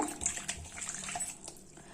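Water is sloshed and stirred by hand in a bowl to dissolve salt for chapati dough, a soft, close, irregular splashing and swishing with no talk over it.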